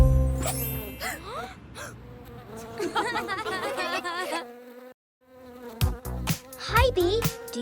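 A cartoon bee buzzes in a wavering, pitch-bending drone over bright children's farm-song music, with a short pause near the middle before the buzzing returns.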